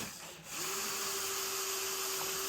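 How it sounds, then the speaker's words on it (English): Hole saw, 2 1/8 inch, boring louver openings in the plastic dash face of a 2022 Polaris Ranger 570: a steady, continuous whining drill tone with gritty rasping cutting noise, close and loud throughout after a brief start. "Using a 2 1/8 inch hole saw, cut the body louver openings in the face of the dash."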